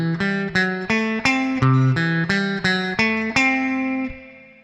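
Two triads a tritone apart alternate in a steady pulse, about eleven clear chord attacks that shift back and forth between the two harmonies, the last one held and left to decay, with no speech.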